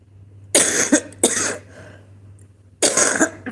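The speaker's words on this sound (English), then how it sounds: "Okay, I've got this bad cough still." Three harsh, close coughs, the first two in quick succession and a third after a short pause, over a low steady hum.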